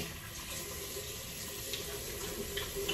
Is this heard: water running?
yes